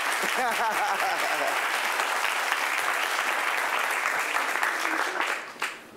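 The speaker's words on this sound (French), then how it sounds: "on l'applaudit très fort" Sustained enthusiastic applause from an audience fills the room, with a few cheers early on, then tapers off near the end.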